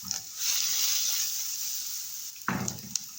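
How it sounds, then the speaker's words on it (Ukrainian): Onion sizzles in hot sunflower oil in a frying pan with a steady, bright frying hiss, followed by a brief clatter near the end. "На сковорідку наливаю сонячну олію. І спочатку смажу цибульку."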